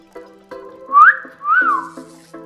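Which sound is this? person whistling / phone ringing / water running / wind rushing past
person whistling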